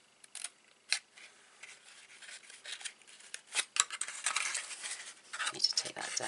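Scissors trimming paper or card while making a notebook and gift box, with a string of short crisp snips and rustles close by that grow busier toward the end.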